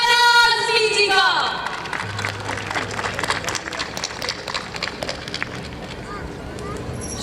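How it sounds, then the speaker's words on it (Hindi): An audience at a school annual function breaks into applause after an announcer's voice fades. The clapping is a broad, fairly loud wash with some cheering and crowd murmur. "तो जोरदार तालियों से स्वागत कीजिए शबाना आज़मी जी का"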